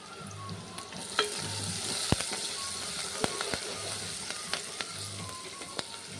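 Curry leaves sizzle and crackle in hot oil in a pan, with a steady frying hiss broken by sharp pops and occasional stirring scrapes, close and moderately loud with no talking.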